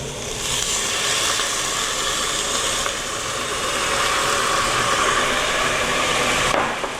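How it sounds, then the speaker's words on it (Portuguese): Meat in a hot pan is deglazed with dry red wine over high heat, giving a loud, continuous broadband sizzle and hiss that holds steady for several seconds without talk. "E agora eu vou fazer vou voltar a carne. E vou deglaciar tudo com o vinho"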